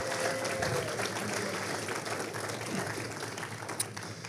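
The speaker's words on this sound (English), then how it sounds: "So let's give them a hand." A graduation ceremony crowd applauds the class of 2022, sustained loud clapping from many hands filling the hall, with a faint voice or cheer briefly surfacing early and a sharp accent near the end.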